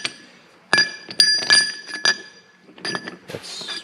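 A metal nut slipping through and clinking against hard surfaces in an echoey room, giving a string of bright, ringing clinks and rattles of varying loudness, close by.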